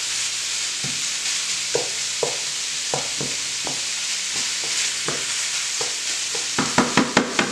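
Ground meat for shepherd's pie browns in a pan with a steady crackling sizzle, punctuated by repeated scraping stirs that quicken toward the end.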